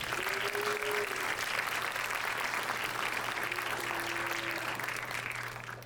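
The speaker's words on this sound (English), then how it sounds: "let's give them a round of applause" Audience applause at a faculty or staff appreciation moment, a faint, even wash of distant clapping held steady for several seconds, with a low hum beneath and a brief tonal voice-like sound.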